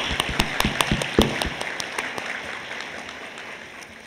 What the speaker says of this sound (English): Let's give them another round of applause for that powerful conversation.